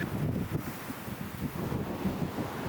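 Strong wind buffeting the microphone with a rough low rumble and gusty roar, steady throughout with no voices.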